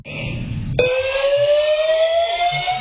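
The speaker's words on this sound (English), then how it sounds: "With the fire alarm blaring" An apartment building's fire alarm suddenly starts blaring, a loud, continuous, steady electronic tone that holds without a break, with faint background noise before it begins.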